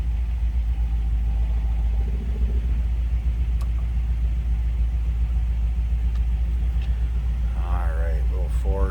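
A 1957 Ford Fairlane 500 Skyliner with a 292 V8 idles in neutral with a steady, deep, even rumble. A voice comes in briefly near the end.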